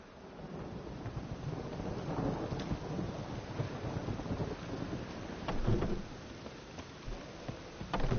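A thunderstorm in a PS4 video game: continuous rain and wind hiss under low rolling thunder, with a heavier rumble swelling past the midpoint and another at the end.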